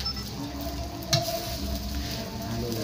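Biko, sticky rice cooked with sugar, being stirred in a pot: a continuous sizzling, bubbling texture with a single sharp scrape of the spoon near the middle, close and with no talking.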